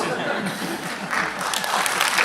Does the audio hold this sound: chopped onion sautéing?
no